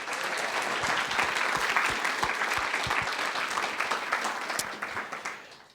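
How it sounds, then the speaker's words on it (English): A lecture audience at a university speaker series claps for Bryson in a full round of applause, dense and sustained before thinning and fading out near the end. "Let's give a round of applause for Bryson"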